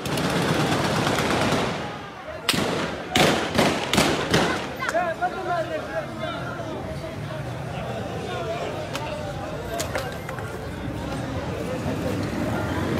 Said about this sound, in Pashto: ډزې کوي ډزې